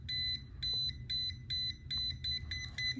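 Piercing electronic beeps from an AmiciSense AC 12-1000V non-contact voltage tester pen detecting voltage on a cable, sounding in short bursts and grouped pulses at an uneven pace, close-up over low room hum.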